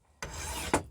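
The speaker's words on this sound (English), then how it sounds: "So right here, guys, I have on my bastard file" A bastard file rasps across a metal jewelry bezel in one steady stroke lasting under a second, close and clear, finishing with a brief harsher scrape.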